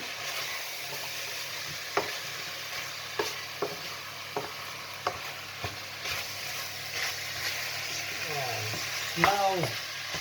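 Potatoes and carrots fry in a pan for a curry, a steady close sizzle broken by several sharp clinks and scrapes of stirring, with a louder clatter near the end.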